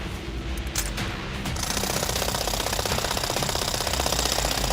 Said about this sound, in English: bring in the high-powered hydraulic wrench to loosen the last remaining bolt in the joint